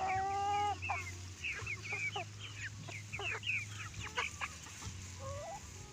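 Several chickens, broilers and young laying hens, cluck and call in quick, overlapping bursts, fairly close, over a steady low mechanical hum.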